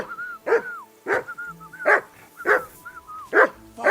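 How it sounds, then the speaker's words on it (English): A dog in the video game Kingdom Come: Deliverance II barks in a steady series of about six sharp, loud barks spaced roughly half a second apart, heard alone without talk. "Call off that damn dog!"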